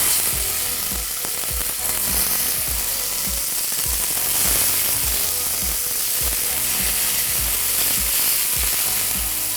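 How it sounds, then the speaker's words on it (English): Turkey kebabs sizzle steadily in a hot pan, a dense bright hiss with a regular clicking, ratchet-like rhythm running underneath, loud and close, with no speech. "And then just cook the remaining kebabs that you've got left."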